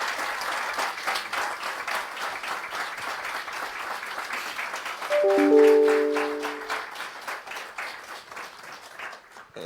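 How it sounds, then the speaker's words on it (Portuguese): An audience at a psoriasis conference panel gives a sustained round of applause, with dense, distinct claps throughout and a brief tonal chime in the middle before the clapping thins out. "peço à audiência uma salva de palmas para estes 4 excelentes mestres"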